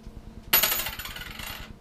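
A silver coin drops and rings with a bright, lingering metallic tone over a faint rhythmic background hum.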